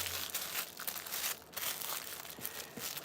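Wrapping material is folded over a Michael Kors handbag order package, giving close, quiet bursts of paper crinkling and crumpling with soft rustles between them.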